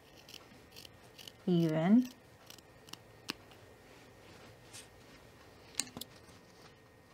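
Scissors snipping fleece fabric: a few close cutting crunches, with a brief spoken word and scattered small ticks and taps around them.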